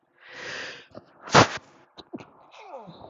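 A single sharp sneeze bursts out close by, framed by a breathy inhale before it and a few quiet clicks and murmurs after.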